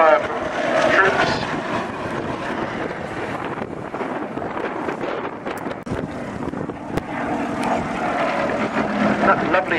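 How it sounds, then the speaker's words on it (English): Bristol Mercury radial engine of a Westland Lysander aircraft giving a steady, soft throb for the whole stretch, mixed with wind noise on the microphone while someone talks over it. "That lovely sound of the Bristol Mercury radial engine that you can hear is lovely, soft throb of that engine."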